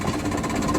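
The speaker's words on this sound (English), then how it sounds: "Oh, I hear that noise of that mower." Engine of a silage mower running in a field, a steady close mechanical drone with a rough, knocking vibration, heard briefly without talk.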